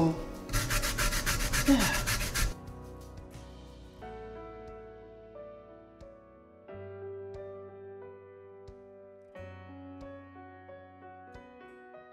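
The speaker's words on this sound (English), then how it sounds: "I'm gonna start the grating process like so" A lemon peel rubbed against a metal grater, giving about two and a half seconds of loud, steady scraping strokes before it stops. Quiet music continues afterward and a voice speaks briefly.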